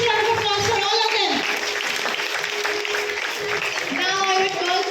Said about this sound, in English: Please give a huge round of applause for all of them.